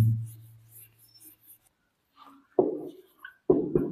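Chalk or marker writing on a board during an English grammar lesson, a few short scratchy strokes that come after a quiet stretch with some faint murmuring.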